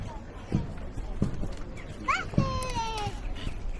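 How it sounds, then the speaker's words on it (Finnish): The hooves of a big black horse at a mounted combat tournament clip-clop in a few distinct thuds, close and fairly loud, while someone talks and a high whinny-like call rises over the end. "iso musta hevonen."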